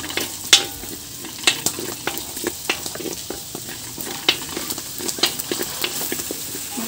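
Garlic frying in a pan for spaghetti sauce: a soft, constant sizzle broken by frequent sharp crackles and pops spread across the clip, nearby, with no voices.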